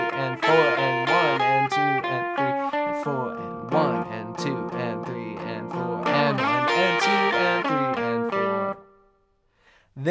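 Electric guitar playing an opening lick: quick double-stop bends and slides in a steady run of notes, bright and close, ending on a ringing chord before fading out, no talking.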